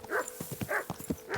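In the medieval RPG Kingdom Come: Deliverance 2, a dog gives a quick run of short, near barks, several sharp yips in rapid succession with no talk over them.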